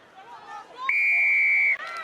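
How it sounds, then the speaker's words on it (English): A referee's whistle at a women's Six Nations rugby match between England and Scotland gives one long, loud, steady blast of nearly a second over a busy crowd, with commentary before and after. "Big blow of the whistle there, and Evie Gallagher over the top again."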